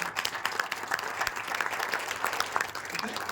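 An audience at a meeting in Kolkata claps steadily for a few seconds, a dense patter of many hands at moderate loudness, with faint voices mixed in.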